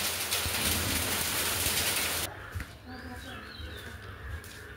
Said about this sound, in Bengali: এই যে পাথর পড়তেছে, আর প্রচুর বৃষ্টি হচ্ছে, ঝড় হচ্ছে বাহিরে